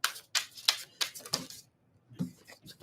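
Tarot cards being shuffled close up, a series of quick papery riffles and snaps, a brief pause, then a few more flicks.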